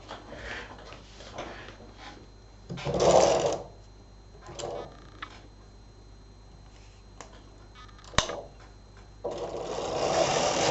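A Silver Reed SK 280 knitting machine knits rows of waste yarn, with carriage passes rising and falling in bursts between quieter clicks and mechanical clatter, close by and without voices.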